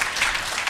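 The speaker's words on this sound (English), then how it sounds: "can we clap for Laban one more time?" Audience applause at a climate finance symposium for youth and women, a brief, steady burst of clapping from a crowd with no talk over it.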